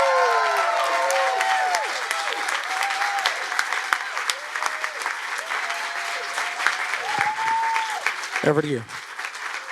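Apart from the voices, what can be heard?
audience applause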